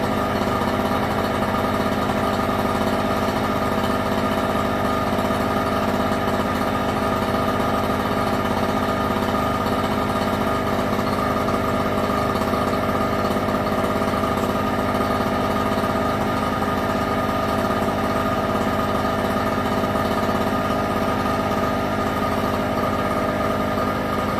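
A Performance Power 780W portable generator engine idles on a cold day while warming up, a steady, unbroken buzzing hum close to the microphone with no talk.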